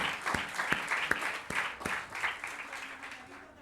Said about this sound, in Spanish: Denle un aplauso a ese muchacho.